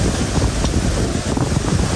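Strong, cold northeasterly wind gusts hard around a hut near the sea during light rain, roaring and buffeting the microphone in loud, uneven surges with a broad whooshing wash and no voices.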